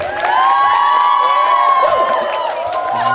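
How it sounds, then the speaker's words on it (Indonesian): An audience at a lively Islamic sermon gathering cheers and claps for a hadrah music group, a steady, dense wash of crowd noise and shouting voices that holds without a break. "Tepuk tangan untuk hadrah kita kali ini."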